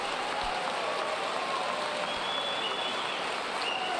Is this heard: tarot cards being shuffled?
no